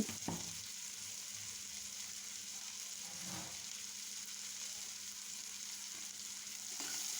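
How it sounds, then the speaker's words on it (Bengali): Onions frying with salt in a pan for pointed gourd bhorta, a quiet continuous sizzle with a couple of soft stirring scrapes, no voices. "পেঁয়াজটাকে বেজে নিচ্ছি এখন দিয়ে দিচ্ছি পরিমাণ মতো লবণ"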